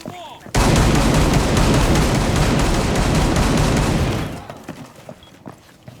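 Gunfire in the video game Rainbow Six Siege bursts in as a dense, sustained volley of shots lasting several seconds, loud and continuous, then fades into quieter game sounds.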